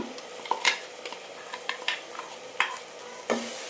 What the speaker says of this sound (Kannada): ಸ್ವಲ್ಪ ಇದು ಹಸಿ ವಾಸನೆ ಹೋಗೋ ತನಕ ಹುರ್ಕೋಬೇಕು.